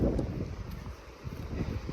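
Strong wind buffeting the microphone on a steep Cornwall coastal hillside, a low continuous rumble with gusty swells and no voices.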